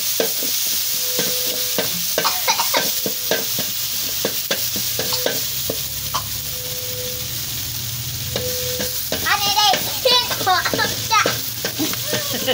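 Clams and basil stir-fry in a hot pan, with a steady loud sizzle, repeated scraping and clanking strokes of a utensil, and brief voices talking now and then.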